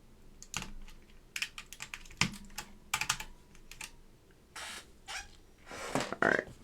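Keys clack and rattle on a Northgate OmniKey Ultra T keyboard with Alps SKCM White switches during a restoration build, in sharp irregular bursts and clusters with short pauses, close and fairly quiet.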